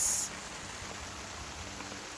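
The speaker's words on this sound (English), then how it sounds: "There is no shortage of rain happening right now" Steady rain falls on tarps over a riverside campsite, a soft continuous patter with a brief brighter hiss at the start and no voices.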